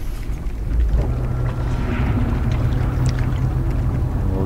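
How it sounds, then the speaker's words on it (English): Spaceship engines starting up in a dinosaur-filled video game build, giving a loud, steady low roar with a windy hiss that holds evenly throughout. "start the engines."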